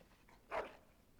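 A dog in Dragon Age Origins gives one short, fairly faint bark or yip, alone against quiet background.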